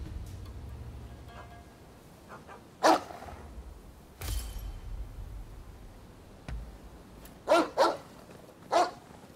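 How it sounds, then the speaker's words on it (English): A dog in the Rise of the Ronin video game barks several times, short sharp barks spaced across the clip, with a couple close together near the end, moderately near over quiet ambience. "And there's another dog."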